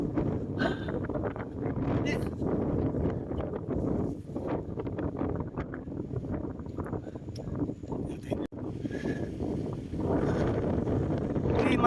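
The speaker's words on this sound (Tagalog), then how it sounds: "Lakas pa rin ang hangin." Gusty wind roars and buffets the microphone during a solo bike ride along a highway in North Luzon, a low, rumbling rush that swells and dips while someone talks over it.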